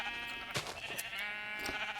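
Sheep in the video game Minecraft bleat several times over a sheep farm with pens, short wavering calls heard close over a steady game hum.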